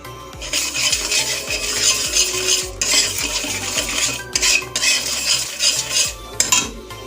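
Sugar and grated coconut being mixed in a metal pot for a sweet filling: a spoon scrapes and clinks against the pot in a steady rhythm, loud and close, with no talking.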